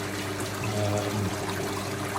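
Water pours steadily into a koi quarantine tank during a top-up, a continuous close splashing trickle with no pauses.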